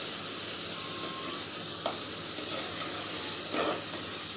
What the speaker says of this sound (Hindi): चम्मच की मदद से आप इसको मिक्स कर लें।